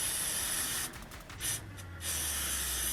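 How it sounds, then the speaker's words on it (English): WD-40 aerosol sprayed onto the exhaust bolts of a lifted Toyota Celica GT-S, a loud close hiss that dips briefly twice in the middle before continuing strongly to the end. "This is WD-40. I'm going to put it on these two bolts."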